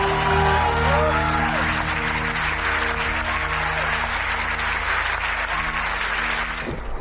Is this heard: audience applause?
yes